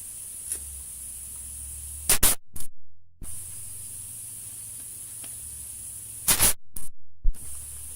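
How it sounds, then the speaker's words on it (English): An air-compressor-driven staple gun fires into stretched canvas in two quick clusters of sharp, hissing pneumatic bursts, separated by a quiet stretch with low background hum. "I have to pull the nail gun or the staple gun that way to try and stretch it across a bit more."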